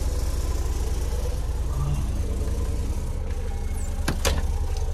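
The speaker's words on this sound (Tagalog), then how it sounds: "Okay, na-start ko na rin yung kotse natin." A car engine idles steadily after being started, a low constant rumble close by, with a couple of brief clicks or knocks near the end.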